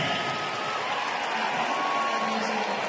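A crowd claps and cheers in an arena at a world karate championship final, a dense, even wash of applause carrying steadily throughout.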